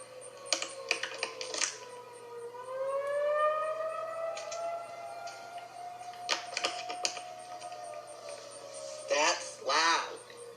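An outdoor tornado civil defense siren winds up into a long rising and falling wail at a distance, heard among clicks and knocking noises close by, with a second siren sweep near the end.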